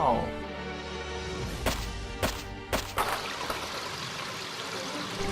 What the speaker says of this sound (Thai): นี่พวกเราดูสิ มีน้ำไหลอยู่ข้างในจริงๆด้วย